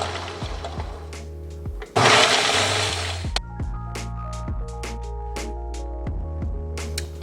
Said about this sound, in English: we are going to blend on low to start